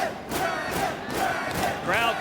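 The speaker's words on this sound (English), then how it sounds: "Crowd chanting Dragon" A professional wrestling crowd at a Ring of Honor event chants "Dragon" in rhythmic, rising unison shouts, loud and reverberant across the arena.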